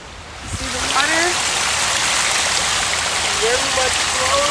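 A flowing stream in a nature setting in Kansas City, Missouri, gives a steady broadband rush of running water throughout. A brief voice speaks near the start over the water.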